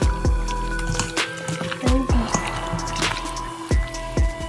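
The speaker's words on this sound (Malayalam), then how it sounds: "2 സ്പൂൺ ഓയിൽ 1 സ്പൂൺ ചെറുനാരങ്ങ നീര് ഇനി നമുക്കിത് മിക്സ് ചെയ്യാം" Chicken pakora marinade gets mixed with two spoons of oil and a spoon of lime juice, making wet squelching and dripping sounds with repeated soft smacks close by.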